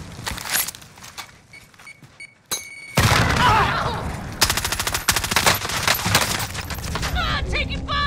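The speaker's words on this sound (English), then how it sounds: "Ah, taking fire!" Gunfire in a video game shooter: sparse shots at first, then long loud bursts of rapid automatic fire and rattling volleys, close and continuous, with people talking faintly underneath.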